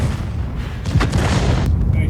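World of Tanks game audio with a deep booming tank cannon shot fired from behind a rock, a short heavy blast with rumbling tail, while a person talks over it.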